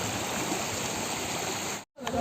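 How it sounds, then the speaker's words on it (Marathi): A small forest waterfall rushes in a steady, fairly loud hiss of falling water, briefly cut off near the end before resuming. "दोनचे चार धबधबे असे छोटे छोटे धबधबे भरपूर आहेत"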